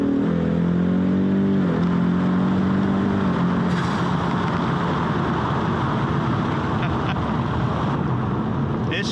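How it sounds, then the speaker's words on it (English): 2020 Ford Mustang EcoBoost with the 2.3-litre HPP engine, revving hard toward redline from inside the cabin, a loud rising engine note that shifts and then settles into steady roaring acceleration with road noise. "It's just such a happy engine around the red line."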